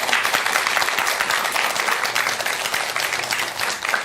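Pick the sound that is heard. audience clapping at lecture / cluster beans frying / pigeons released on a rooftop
audience clapping at lecture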